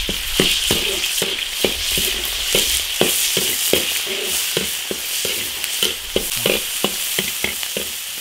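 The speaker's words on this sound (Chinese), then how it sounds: "把肉末炒一下。" Minced pork stir-fries in oil in an iron wok for mapo tofu. A loud, steady sizzle runs under a quick, regular rhythm of spatula scrapes and knocks throughout.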